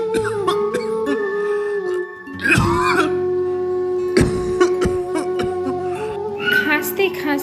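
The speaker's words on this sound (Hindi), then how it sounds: "खांसते खांसते" Several harsh coughs and throat-clearing bursts from a sick man in a Hindi cartoon break out over a sustained tonal background, loud and close, with one cluster near the start and another midway.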